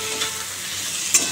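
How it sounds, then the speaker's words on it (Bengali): Flat beans fry in a pan with a close, continuous sizzle, with a soft stir around the middle and a sharp clink of utensil near the end. "দেখো সিম ভাজাটা বসিয়ে দিলাম।"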